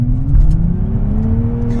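A 2023 Nissan Z accelerating hard in second gear on a warm, dry day, its engine note rising steadily in pitch as it pulls, loud and close with no talking.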